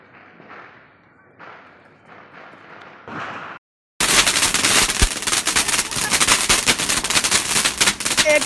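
A Diwali AK-47 firecracker bursts into a loud, continuous volley of rapid cracks like machine-gun fire, running for several seconds after quieter voices and a brief pause.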